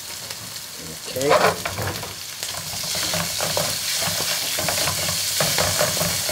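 Chicken stir-frying in oil with tomato puree for an Indian-style dish, a steady sizzle with bursts of stirring and scraping in the pan, fairly close, with a brief spoken word near the start.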